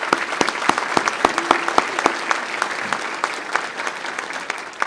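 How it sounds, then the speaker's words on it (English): Applause at a Tinley Park business breakfast, a crowd clapping steadily with several sharp, close individual claps standing out and gradually thinning toward the end, with no talk over it. "please give him a round of applause"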